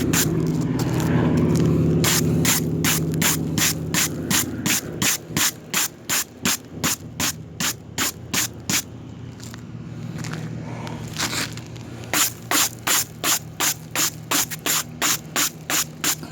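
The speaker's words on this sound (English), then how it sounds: "you blow it with the blower, blow all the debris with the blower" A blower clears debris off a flat roof during a leak repair, giving a loud, steady rushing hiss that breaks into rapid, regular pulsing bursts of air.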